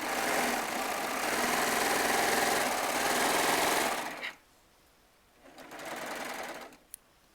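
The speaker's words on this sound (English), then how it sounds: "So now I'm going to sew these 2 rows I just finished together." A Baby Lock serger sews rows of quilt fabric together, a loud, fast, steady mechanical whirring that runs for about four seconds, stops, then resumes briefly for a second short burst.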